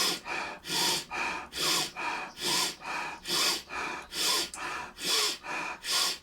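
Fast rhythmic breathing exercise, about a dozen forceful breaths, each a loud whooshing inhale or exhale in steady succession, close and clear with no talking.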